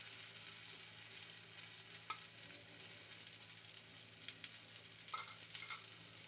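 Rava dosa fries in oil in a pan, a soft continuous sizzle heard faintly and close up, with a few small clicks and taps and no talking.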